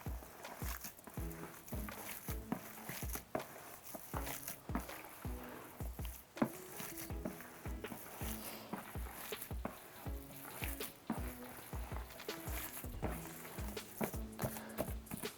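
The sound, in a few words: mixing paper mache pulp by hand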